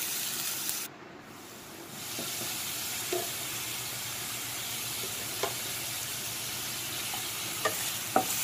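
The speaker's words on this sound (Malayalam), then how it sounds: "നമുക്ക് അരിഞ്ഞു വെച്ചിട്ടുള്ള സവാള, വെളുത്തുള്ളി ഇവയെല്ലാം ഇട്ടൊന്ന് വഴറ്റിയെടുക്കണം" Chopped onion and garlic with salt sautéing in a pan, a steady soft sizzle and hiss with occasional faint stirring clicks and scrapes, fairly quiet and continuous with no talk.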